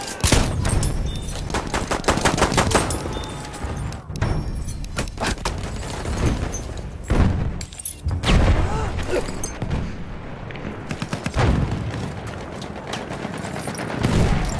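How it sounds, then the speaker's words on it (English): An enemy machine gun in the Battlefield 1 video game fires rapid bursts of shots, loud and close, with further gunfire and booms continuing through the battle. "Fucking enemy machine gun!"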